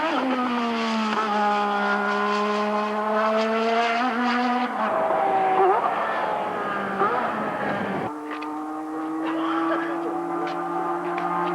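A race car drives on a track, its engine holding a loud, steady droning tone that shifts pitch a couple of times and briefly dips as the revs change, with no break in the sound.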